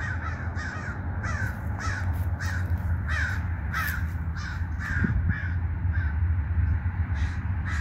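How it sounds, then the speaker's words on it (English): Several crows caw in repeated harsh bursts, roughly two per second, over steady outdoor rumble while they mob a hawk overhead. "There go the crow's chasing his ass."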